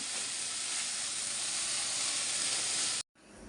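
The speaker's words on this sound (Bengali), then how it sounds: "এখন ভালো করে একটু ভাইজা নিই" Dumpling filling seasoned with white and black pepper frying in a pan, a loud steady hissing sizzle for about three seconds, a sudden brief cut to silence, then quieter sizzling resumes.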